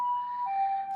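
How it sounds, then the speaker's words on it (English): Ambulance siren outside a house, a single steady wailing tone dropping slightly in pitch partway through, heard alone and briefly. "that ambulance just stopped in front of my house."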